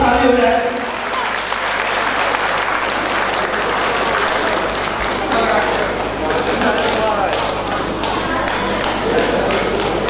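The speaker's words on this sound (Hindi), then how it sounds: "आप सभी सदस्यों से आग्रह है बाहर को बैठे हुए एक जोरदार ताली हो जाए" A large audience at a women's empowerment and Holi gathering of a Kanyakubj Brahmin association in Ramgarh keeps up steady, loud, dense applause for about ten seconds with no clear breaks.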